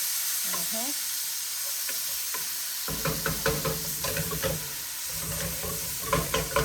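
Olives and garlic sizzle and crackle steadily in a hot frying pan, with occasional scraping and stirring knocks, close and continuous; a brief voice is heard near the start.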